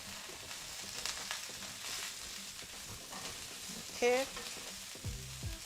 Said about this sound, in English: The onions have started browning slightly. So next we just toss in the veggies.